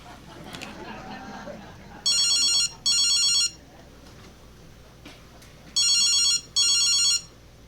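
A telephone rings at home in two pairs of bright electronic trills, each burst about a second long and loud against faint background noise and movement on a stage.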